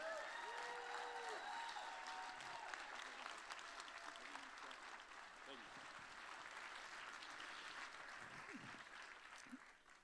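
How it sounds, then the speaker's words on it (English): Audience applause at a children's aid benefit event, a sustained wave of clapping that swells at the start and gradually thins out, with a few voices and cheers mixed in. "Can we get one more round of applause for Emmanuel?"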